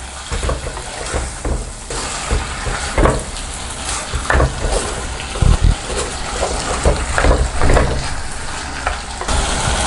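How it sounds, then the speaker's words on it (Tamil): Steady sizzling in a hot pan, with scraping and stirring bursts and wet splashes as a thick ground paste is poured over cooked mutton for village-style mutton kuzhambu. "மட்டன் வெந்ததுக்கப்புறம் நம்ம அரைச்சி வச்சதை ஊற்றிக்கலாம்."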